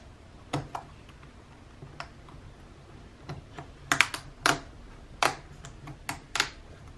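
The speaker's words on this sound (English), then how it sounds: "hold down the retainer clips while I peel off this cap so that they don't bend and break" A large key cap being pried off a Lenovo Ideapad laptop keyboard: a series of sharp, close plastic clicks and snaps, sparse at first and then clustered into several louder cracks, with no speech.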